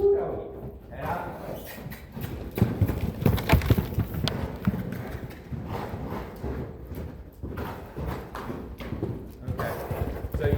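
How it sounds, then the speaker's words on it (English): A racehorse mare trotting with a long stride, hooves clip-clopping in a quick steady rhythm close by, with a dog barking now and then in the background. "Look at this long trot on this horse."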